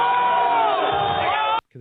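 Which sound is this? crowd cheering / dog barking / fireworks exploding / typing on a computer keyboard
crowd cheering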